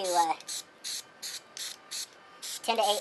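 An aerosol can sprays onto fabric from 8 to 10 inches away in short, even bursts, about seven hisses in a steady rhythm, with brief speech at the start and end.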